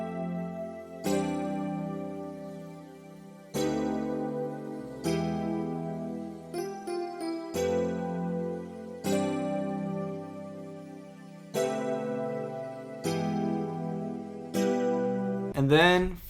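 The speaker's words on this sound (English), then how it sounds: "so I ended up doing that with a nylon EP and a pad out of XV5080" Layered chords from a nylon electric piano and a shimmering chime pad out of a Roland XV5080 play in a slow progression, each chord struck and held for a second or two before the next, ending in a quick bright flourish.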